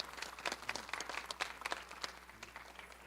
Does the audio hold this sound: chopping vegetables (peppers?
no